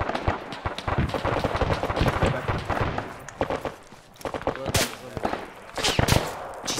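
Dense gunfire in a World War II Belorussia military game, with mixed distant and nearer shots and bursts cracking over the battlefield, irregular and continuous throughout, with a few louder sharp reports toward the end.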